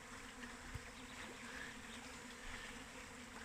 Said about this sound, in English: It's either our bees swarming ready to go, or maybe another hive somewhere